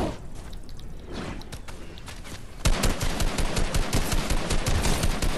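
Gunfire in a Fortnite duos match, faint scattered shots at first and then a loud, rapid, continuous automatic burst close by.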